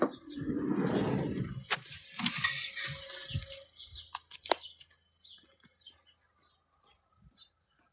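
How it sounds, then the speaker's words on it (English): Scattered bird chirps and tweets, thin and fairly distant, follow a burst of louder broadband noise at the start, then a few sparse calls in quiet. "Birds are tweeting away now, aren't they? I can hear them."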